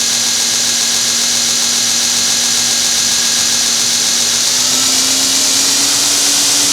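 A Northridge Tool 2x72 belt grinder runs unbolted on a towel, a loud steady motor whine with airy belt hiss whose pitch creeps upward near the end as it speeds up.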